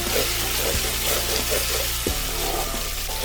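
Ginger paste frying in masala for a fish curry, a loud steady sizzle with bubbling, punctuated by a couple of dull knocks from stirring.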